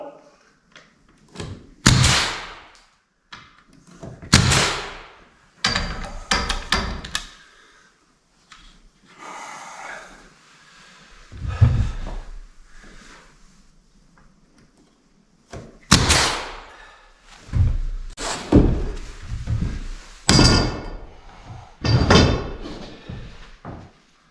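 Nails driven into a wooden fascia board while installing a wooden floor, heard as loud, sharp, separate impacts and bursts spread across the stretch, some in quick clusters, with quieter gaps between.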